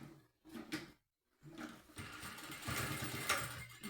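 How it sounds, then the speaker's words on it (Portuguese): Sewing machine stitching the lining and outer fabric of a small suitcase together, a close mechanical whir with a short pause before a steady, rapid run of stitching. "E faço a costura."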